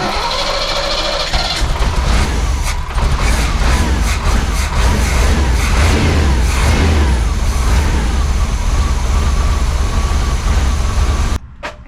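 A 1989 Chevy 1500 4x4 pickup engine with a flooding carburetor that needs a rebuild, running loud and close with a rough idle and repeated revs rising and falling throughout.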